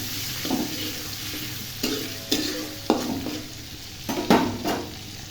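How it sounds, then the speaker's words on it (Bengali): Onions frying in oil in a wok for a hilsa fish curry, a steady close sizzle broken by several sharp scraping stirs of a spatula against the pan, with no talk. "পেঁয়াজটাকে ভালো করে ভেজে নেব।"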